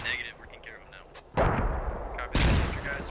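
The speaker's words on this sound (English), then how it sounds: "The grenade's being thrown by Imanaz." Two heavy booming blasts from grenades in the video game Squad Ops, each a sudden loud low thump with a rumbling tail, following a stretch of quieter game sounds and faint voices.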